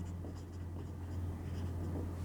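Chalk or marker writing on a classroom board during a class 9 physics lesson, a steady soft scratching that runs continuously and quietly over a constant low electrical hum, with no voices.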